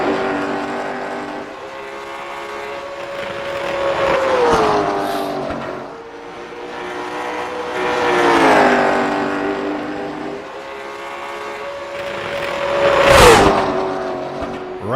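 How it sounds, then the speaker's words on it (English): Pavement late model race car engine at a Nashville Fairgrounds oval, revving hard and bouncing off the rev limiter as it goes into the turn, with three loud swelling passes and a sharp peak near the end. "Right up against that rev limiter when he went into turn number 1."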